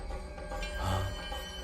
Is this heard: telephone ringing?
yes